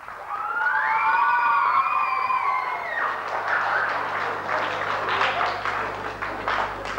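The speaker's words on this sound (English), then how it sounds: "Could we have a good round of applause there for them," A crowd applauds Irish dancers at a St Patrick's parade in Clara, Co. Offaly, the clapping rising as a steady, dense patter after a brief sustained tonal sound at the start.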